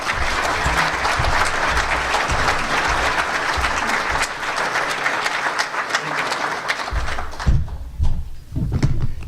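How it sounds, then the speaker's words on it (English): A lecture audience gives a full round of applause for Professor Peskin, a steady dense wash of clapping that lasts several seconds before trailing off into a few scattered claps and footsteps. "So let's give him a round of applause."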